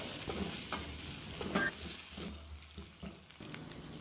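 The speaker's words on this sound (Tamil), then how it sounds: "வெங்காயம் ரொம்ப பொன்முருவலாக வதங்கக்கூடாது, ஆனால் நல்லா வெந்து வதங்கிடணும்" Onions sautéing in a pan for a brinjal side dish for idli and dosa, a steady close sizzle and frying hiss with occasional stirring scrapes, no talking.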